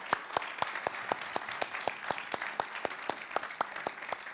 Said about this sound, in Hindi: तालियों के साथ दोनों का अभिनंदन।